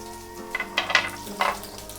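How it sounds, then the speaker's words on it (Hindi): Garlic hits hot mustard oil already seasoned with cumin and asafoetida for stuffed capsicum, and it crackles in several sharp sizzling bursts over a low background. There is no talking. "हींग डालने के बाद अब मैं इसमें लहसुन डाल रही हूँ।"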